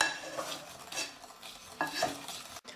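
Chocolate ice cream custard being mixed with a little hand whisk in a bowl, giving a few soft, quick stirring and scraping strokes with brief pauses, fairly quiet and close, no talking.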